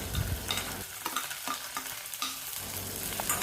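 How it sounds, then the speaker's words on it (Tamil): Onion, curry leaves and garlic stirred and sautéing in a tablespoon of oil for a village-style masala, giving a soft close sizzle with scraping stir strokes, no talk. "1 டேபிள் ஸ்பூன் அளவுக்கு எண்ணெய் சேர்த்துட்டு வெங்காயம், கருவேப்பிலை, பூண்டு எல்லாம் சேர்த்து கொஞ்சம் வதக்கணும்."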